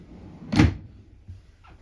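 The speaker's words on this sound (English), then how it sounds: "We have pull-out drawers here for storage, which is nice." A solid wood pull-out storage drawer in a 2023 Northwood Arctic Fox 275L RV is shut with one firm thud, followed by two softer knocks.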